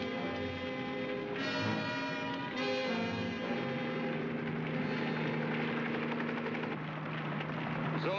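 A helicopter drones steadily overhead above a forest fire with a rhythmic rotor chop and engine hum, loud and constant throughout with no voices.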